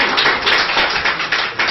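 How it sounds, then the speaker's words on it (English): A courtroom audience applauding a judge, a dense continuous patter of many hands clapping at close range with no gaps, filling the whole short stretch. "the entertained courtroom gives him applause"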